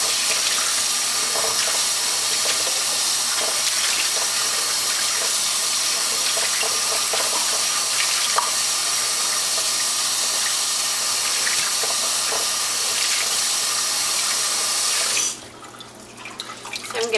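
Running tap water pours steadily into a sink while dyed yarn is rinsed with dish soap, a continuous splashing rush that cuts off abruptly near the end, leaving a quieter trickle.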